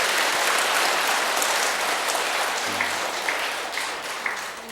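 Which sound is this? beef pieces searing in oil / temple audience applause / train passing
temple audience applause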